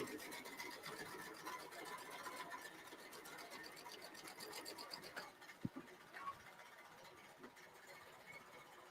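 A long arm quilting machine stitches a memory quilt made from clothing fabrics in a home studio, giving a steady, faint mechanical whir with a fast rhythmic ticking throughout and one brief sharp click partway through.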